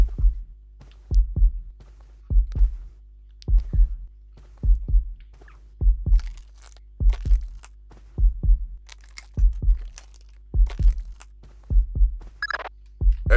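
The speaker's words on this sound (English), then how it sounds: "I have no idea why there's a heartbeat in this room." A steady, deep heartbeat thumps in a Splinter Cell training room, regular double beats repeating throughout, loud and close over a low hum.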